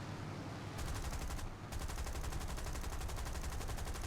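Rapid automatic gunfire from an aircraft gun run in War Thunder, near the Sunderland Mk.III.a flying boat, a dense unbroken chatter over steady engine roar.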